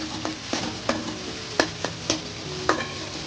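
Tomatoes frying with onions in a pan for a spicy dried-fish (sukat) curry: a soft sizzle underneath, broken by sharp, irregular clicks and scrapes of a spoon stirring against the pan, close by.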